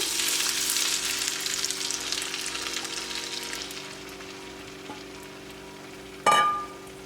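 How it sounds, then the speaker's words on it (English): An egg mixture with peas poured into a hot pan, giving a broad hiss of frying that gradually fades, and then one brief louder clatter near the end, all close by with no talking. "Add my egg mixture in."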